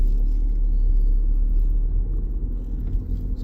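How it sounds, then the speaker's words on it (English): A Skoda Yeti 2.0 TDI diesel SUV with DSG automatic gearbox pulls away, heard from inside the cabin as a steady low engine rumble and hum with a slight rise in level, no talking. "I'm going to set off now, put it into drive, put my seatbelt on and then go."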